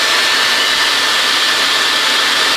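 A hair dryer roars loud and steady at close range while blow-drying hair from wet to dry for a stretched twist-out style, a constant rushing blast with no talk.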